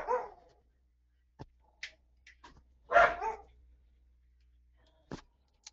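A pet dog barks a few times in a quiet room, with separate sharp, close barks and short yips between pauses.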